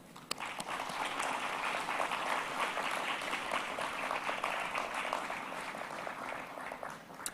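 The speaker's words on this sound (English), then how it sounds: "giving your parents, your family, a very warm round of applause" Sustained, dense applause from a large audience at a university graduation opening ceremony honouring the graduates' parents and families, a steady loud wash of clapping lasting throughout without pause.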